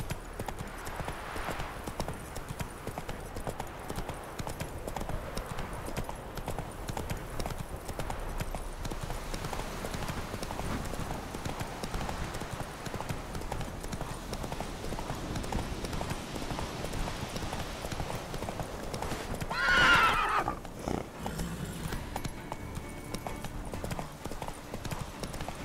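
Roach the horse trots in the video game Witcher 3, a steady, rhythmic clip-clop of hooves that runs close and even throughout, with a brief louder rustle near the end.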